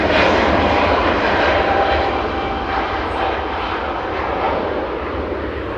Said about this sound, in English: that was Cathay Pacific 216 departing back to Hong Kong